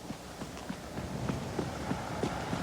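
Horse at a fast canter, rapid hoof clip-clops in an even rolling rhythm, fairly close and heard alone without talk.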